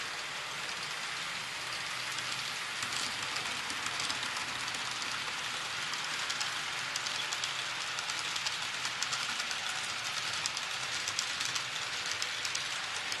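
A 10-coach model Rhaetian Railway train rolls steadily down a spiral track with a continuous, hissing rattle, even and unbroken throughout, with no voices.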